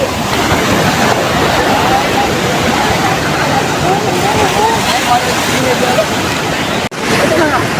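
Night sea waves roll in steadily at Gopalpur beach, a dense, continuous wash of surf with a brief dropout near the end and faint voices mixed into the roar.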